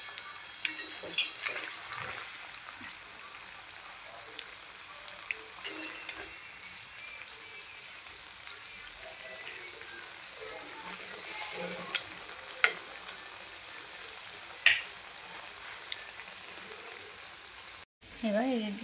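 Cabbage Manchurian balls deep frying in hot oil, a steady bubbling sizzle running throughout with occasional sharper crackles and utensil clinks, and a brief louder clatter near the end.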